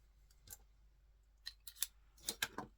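A craft knife sawing through a block of craft foam in a few short scratchy strokes, isolated and close, with quiet pauses between bursts.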